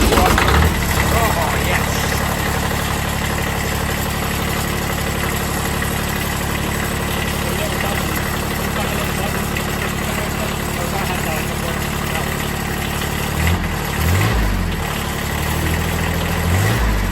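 Ford Crown Victoria engine idling with a steady low rumble, a few bumps of revving near the end and a brief voice over it.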